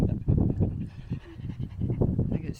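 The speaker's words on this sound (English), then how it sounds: "The dogs sound exhausted." Several dogs pant hard and rapidly up close, a steady breathy huffing rhythm with faint whimpers, loud and continuous throughout with no talking.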